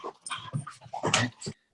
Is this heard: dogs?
yes